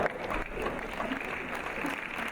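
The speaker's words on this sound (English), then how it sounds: "Yes, keep the applause going." An audience applauding at a conference plenary session, a dense, fairly loud wash of clapping that carries on steadily, with a few voices mixed in.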